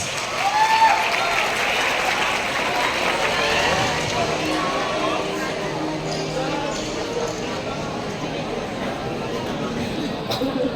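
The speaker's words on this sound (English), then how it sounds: "Let's give Fem a warm round of applause" Steady audience applause fills a school hall at a STEM closing ceremony, a dense, fairly loud wash of clapping that holds for around ten seconds with faint crowd murmur beneath.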